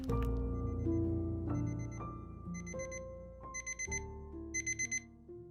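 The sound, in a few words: blaring alarm clock sound effect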